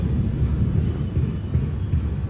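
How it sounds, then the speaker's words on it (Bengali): Low, steady rumble of thunder during a heavy storm with rain and lightning before a cyclone, a dense continuous roar filling the whole moment without speech. "বাবা কি বৃষ্টি হচ্ছে, আর এখনো বিদ্যুৎ চমকাচ্ছে।"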